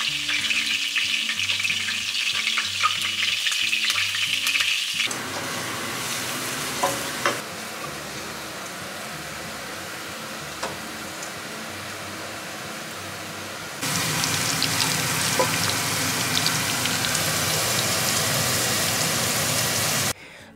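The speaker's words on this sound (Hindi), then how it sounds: "कढ़ाई पनीर अभी कुक हो रहा है" Garlic paste fries in a kadai for kadai paneer with a loud, dense sizzle. Stirring and clinking come and go, and the frying fades partway through before returning strongly near the end.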